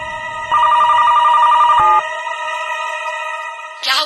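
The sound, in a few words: phone call disconnect tone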